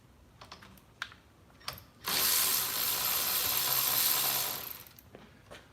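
A ratchet wrench loosening the nut on a car battery terminal: a few scattered clicks, then a dense, rapid run of ratcheting clicks lasting a couple of seconds before fading.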